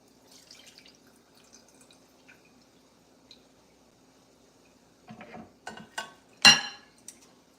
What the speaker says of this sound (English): Drain it again.